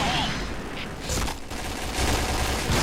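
Rapid gunfire bursts in the first-person shooter game Point Blank, dense and loud with a continuous rattling texture throughout, with brief pauses between volleys and faint game sounds mixed in.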